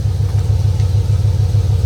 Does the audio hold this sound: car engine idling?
yes